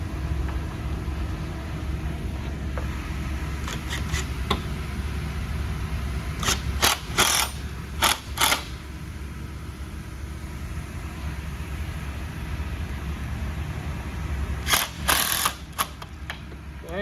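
A low mechanical hum runs throughout, broken by several short bursts of a whirring power drill driving screws into a door panel, a few seconds apart.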